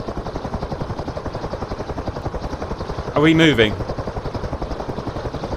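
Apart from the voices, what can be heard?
CH-53E Super Stallion helicopter taking off in the video game DCS World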